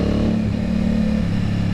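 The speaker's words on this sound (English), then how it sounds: "you can get a nice little snarl out of the exhaust" Aprilia Tuono 660 or RS660 parallel-twin motorcycle fitted with an eBay aftermarket exhaust, riding through a tunnel, giving a steady, close, gravelly exhaust drone with a slight rising snarl under load.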